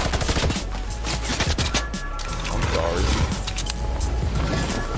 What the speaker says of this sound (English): not the minigun, sir.